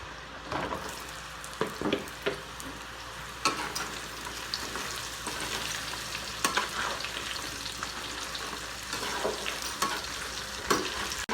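Potatoes and carrots frying and being stirred in a pan for Imus-style menudo, with steady sizzling broken by repeated scraping and clattering stirs, close by and with no talking.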